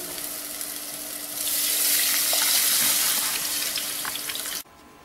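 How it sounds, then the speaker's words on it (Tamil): Tamarind water pours into a hot pan of curry, setting off a loud sizzle that swells and then cuts off abruptly. "புளிக்கரைசல் தண்ணி,"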